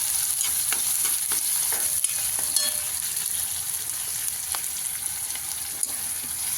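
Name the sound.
onions being stirred while frying in a pan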